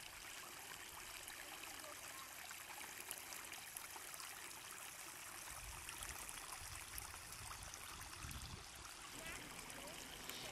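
Water flowing along an eroded stream channel on a ranch, a steady broadband rush and trickle that stays even and continuous throughout, with a low rumble rising near the end.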